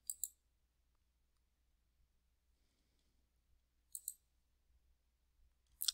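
Computer mouse clicking in a quiet room: three short, crisp clicks spaced a few seconds apart, near and alone against a faint low hum.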